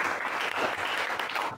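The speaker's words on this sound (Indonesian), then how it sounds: "Oke, tepuk tangan untuk kelompok 1" A classroom of students applauds a presenting group, a brief burst of dense clapping that holds steady for just over a second and then trails off at the end.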